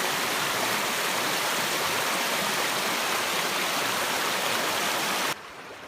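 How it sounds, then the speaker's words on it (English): River rapids rush in a steady, loud, broadband roar of churning water that continues evenly, then drops to a softer wash in the last half second. "take a little video of these rapids"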